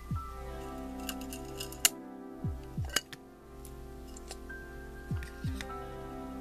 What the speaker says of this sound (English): I will use some miters to cut the ruler.